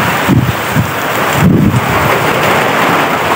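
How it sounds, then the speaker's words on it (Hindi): Steady rain pours close by, a dense hiss with low rumbling swells that suggest distant thunder. "देख सकते हो यार पानी बारिश स्टार्ट हो गई"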